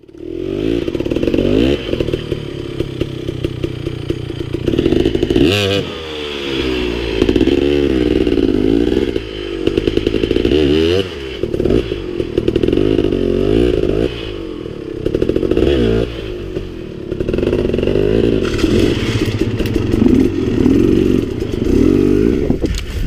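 A dirt bike descends a tight, steep trail at high altitude while running with no transmission oil, its engine droning loud and close with repeated revs, drops and gear-related surges, plus clattering and scraping over the rough ground.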